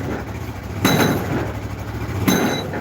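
A pile driving machine with a 2 ton hammer at an outdoor work site, two heavy broadband impacts about a second and a half apart over a steady engine rumble, fairly close and loud, no talking.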